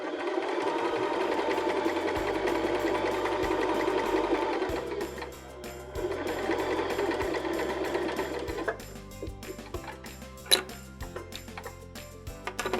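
A Baby Lock BL9 sewing machine stitches a seam with steady motor hum and rapid needle ticking, pausing and restarting in several bursts, close and fairly loud with no talking.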